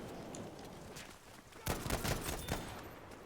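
M1 Garand rifle fire in Battlefield V multiplayer, a few sharp shots cracking out over steady game ambience in the second half of a short burst.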